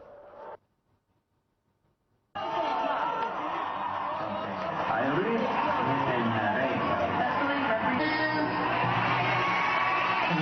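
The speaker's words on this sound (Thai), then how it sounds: "เดี๋ยวไปดูบรรยากาศเสียงเชียร์นะฮะ" Beauty pageant fans gathered at a restaurant cheer and whoop loudly, a dense sustained crowd roar with shouting voices that starts after a brief quiet moment and carries on unbroken.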